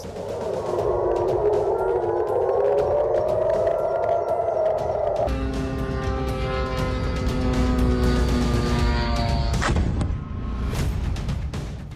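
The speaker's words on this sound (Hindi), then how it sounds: "जॉर्डन में सायरन अलर्ट पर यूएस एयरबेस।" An air raid siren at a US airbase in Jordan wails loudly with a rising and falling tone for several seconds, then shifts to a steady multi-tone blare under rumbling background noise.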